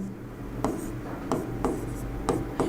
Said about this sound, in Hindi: नाम ही लिख देता हूँ, बाद में फिर एक बार और लिख दूंगा RUBP।